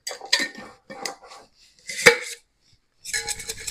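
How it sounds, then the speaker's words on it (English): A spoon stirring ground pepper, whole peppercorns and other cure spices in a bowl for pastrami lox gives a few sharp, close clinks and scrapes in short bursts separated by brief pauses. "Let's give that a stir."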